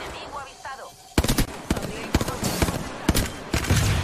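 Video game gunfire, a rapid burst of shots cracking out in quick succession after a brief quiet moment, loud and close, followed by a few scattered single shots.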